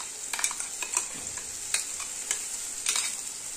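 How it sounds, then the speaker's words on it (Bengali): Ginger, garlic, green chilli and dried chilli paste frying in oil for kosha, a constant hiss punctuated by regular spatula scrapes and stirring strokes, fairly soft and close, without speech. "এই মশলাটা দিয়ে ভালো করে কষাতে হবে"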